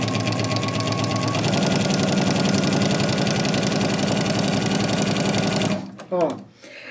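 A walking-foot sewing machine with integrated dual feed stitches fabric loudly and steadily for nearly six seconds, its rapid mechanical chatter stopping abruptly, followed by a brief voice.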